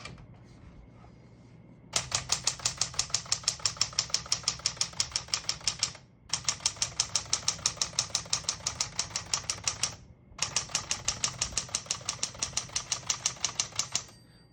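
Rapid rhythmic keystrokes on a 1961-63 Tower Citation 88 vintage portable typewriter, crisp close clacking in three sustained bursts separated by short pauses, with a faint background hum.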